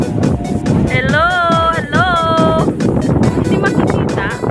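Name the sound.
strong wind blowing in garden, wind noise on microphone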